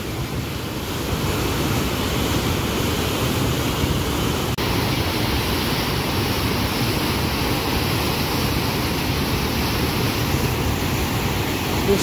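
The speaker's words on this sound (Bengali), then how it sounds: "জলের স্পিড দেখুন একবার।" Fast-flowing water of the Jaldhaka river near the India–Bhutan border, a steady, loud broadband rush that holds constant for the whole stretch, with wind buffeting the microphone and no voices.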